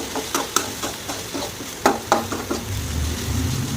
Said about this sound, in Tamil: இப்போ நல்லா வதக்கிட்டு இருக்கிறேன்